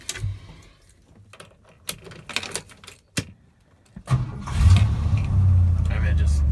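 A 1972 Ford F250 truck engine cranks after some handling noises, then catches and settles into a loud, steady rumble close by.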